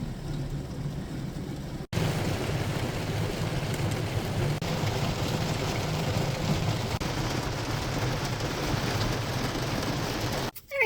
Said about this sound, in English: maybe I'll BRB after the rain slows down a bit so you can hear me.